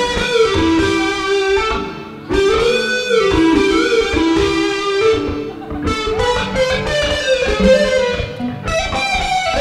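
Someone playing his guitar on a stage show, loud, continuous, with sustained harmonic notes and a brief dip near the two-second mark.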